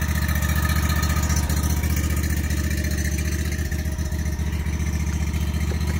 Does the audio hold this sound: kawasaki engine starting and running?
yes